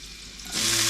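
Fiddleheads going into a hot pan with olive oil and butter, a soft hiss building into steady, loud frying sizzle in the second half.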